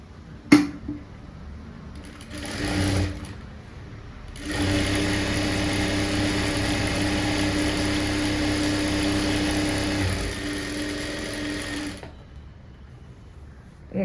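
A sewing machine stitches folded lining cloth for a blouse sleeve in two runs, a short burst followed by a long steady whirring stretch of rapid needle strokes, close and clear with brief pauses around it.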